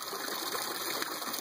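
Water gushes steadily from the outlet of a roughly 1,300 gallon-per-minute pump in an aquaponic bed system, a constant close rushing wash with no voices.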